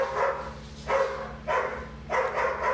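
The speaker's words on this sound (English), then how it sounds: "Jake will bark a little, but Moxie's the barker." A pet dog barks in four loud, separate bursts about half a second apart, close by indoors, with a low steady hum underneath.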